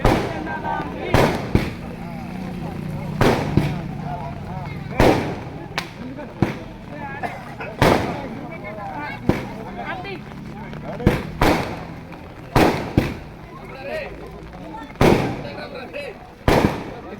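Firecrackers bang in sharp, loud bursts, some in quick pairs, scattered irregularly over a steady background of voices and outdoor commotion.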